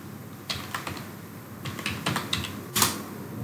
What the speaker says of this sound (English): Now within this, I will type in solprof.